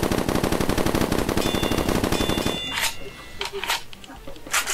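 A golden gun in a video game fires a rapid, loud burst of automatic shots for a few seconds. Sharp clicks and thuds follow as the firing stops.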